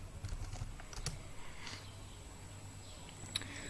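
Keys being typed on a computer keyboard while entering a network command on Kali Linux, faint scattered clicks over a steady low hum, no talking.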